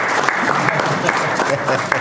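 An indoor audience applauds a certification program graduate at a ceremony, with dense, steady clapping filling the room at close range and no pause.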